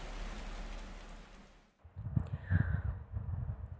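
Rain falls as a sound effect in an audio story, a steady broadband hiss of drops that cuts out, then gives way to a heavier, rumbling patter of rain on a surface, with no talk.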